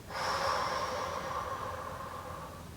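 A single long, deep breath is blown out slowly and steadily, a close, breathy whoosh that swells at the start and gradually tapers away over a few seconds, with no talking.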